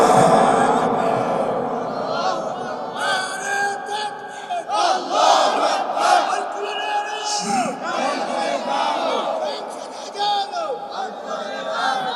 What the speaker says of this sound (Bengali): আরেকটা বার 2 হাত তুলে তাকবীর দিয়ে আমার আল্লাহকে দেখান।